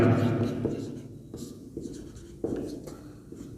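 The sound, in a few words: pen writing a solution on paper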